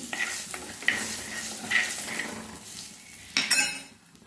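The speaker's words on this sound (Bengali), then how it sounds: "এবারে একটু হলুদ গুঁড়ো দিয়ে আমি একটু নেড়ে নিচ্ছি।" Turmeric powder being stirred into hot oil in a pan for a Bengali hilsa curry with mustard and poppy seed, scraping and clinking in close, uneven strokes over a low sizzle, with a louder burst of scraping near the end.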